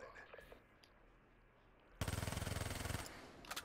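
Rapid automatic gunfire in Call of Duty Black Ops III bursts out loud and dense for about a second after quieter game ambience, followed by a couple of scattered shots.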